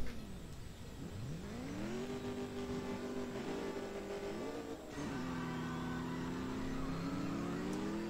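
Race cars in the mobile game CSR Racing during a Legends drag race: an engine revs up with a rising whine, holds a steady high drone, drops briefly at a gear change, then climbs again, continuous and alone.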